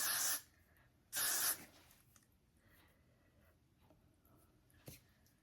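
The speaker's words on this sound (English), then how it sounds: "I'm gonna spray it like that so it holds it up a little bit" Two short bursts of hairspray hiss up close, a second apart, followed by quiet rustling and a faint tap.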